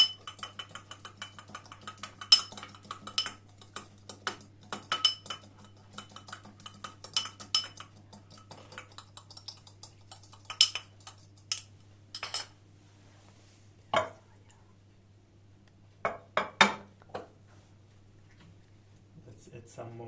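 Potatoes for Swedish Hasselback potatoes being mixed with salt and spices in a dish, giving scattered light clinks and scrapes of utensil on dishware over a low steady hum.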